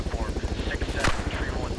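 A military helicopter in the video game Arma 3 thuds with a steady rotor chop, loud and continuous, while gunfire crackles in the mix.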